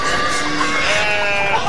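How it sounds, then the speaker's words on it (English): Goats bleating, a loud, close, wavering cry held for under two seconds without talk. "Then I'd just be herding a couple goats and chickens, like Micah."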